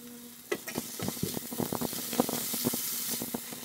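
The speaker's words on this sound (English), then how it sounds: "into a hot pan to sear the meat or to saute the meat" Meat and one onion sautéing in a hot pan for a rib steak stew, a steady close sizzle broken by repeated spatula scrapes and stirring knocks, with no talking.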